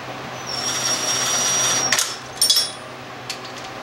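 A power tool snugs up bolts during assembly of a John Deere LT150 lawn mower, whirring in one sustained run that ends in a short clatter, then a few sharp bursts of clicking and a final brief tap, close and loud.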